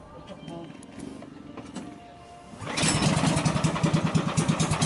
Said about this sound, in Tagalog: titingnan natin yung kung paano paanda rin yung makina